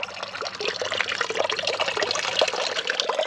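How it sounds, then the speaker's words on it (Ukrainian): Mountain spring water runs steadily from the hills, a close, continuous splashing trickle with no voices. "А тут уже така гірська місцина, і от з гір водичка тече."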